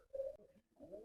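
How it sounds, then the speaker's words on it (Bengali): A pair of new adult fancy pigeons at a pigeon farm coo up close, two soft throaty coos separated by a short pause. "35 এর এক জোড়া নিউ অ্যাডাল্ট কবুতর দেখতে পাচ্ছেন"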